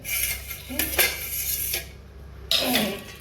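Knife cutting firm guava into small pieces on a board, a few sharp clicking chops and scrapes of metal, close and clear with no talk.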